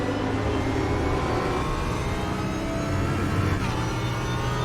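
Onboard an Audi R8 race car on the Dubai circuit, its engine drones loudly and steadily down the back straight, a constant full-throttle roar with tonal harmonics and no break.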